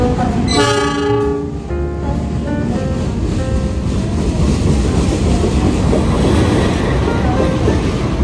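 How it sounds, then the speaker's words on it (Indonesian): Argo Parahyangan passenger train pulling into a station, a loud stacked horn blast near the start, then the steady rumble and rolling clatter of the cars continuing through the whole stretch with no talk. "Argo Parahyangan baru datang dari stasiun Bandung."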